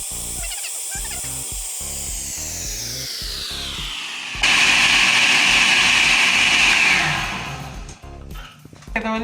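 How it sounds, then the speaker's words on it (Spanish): A kitchen blender purées a thick salsa for flautas ahogadas. The motor runs continuously throughout, its whine gradually dropping in pitch. Midway it jumps to a louder, harsher roar, then dies away near the end. "Lo vamos a licuar hasta que quede una textura bien espesita."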